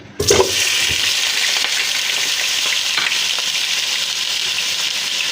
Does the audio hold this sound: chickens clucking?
no